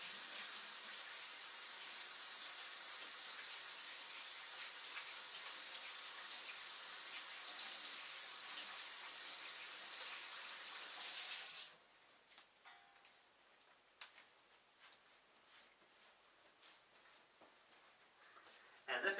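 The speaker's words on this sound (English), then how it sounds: "I'll do a quick rinse off of my own hands." Water runs steadily from a kitchen tap as hands are rinsed before cooking, a constant close hiss that stops abruptly partway through, leaving faint quiet room sound with small clicks.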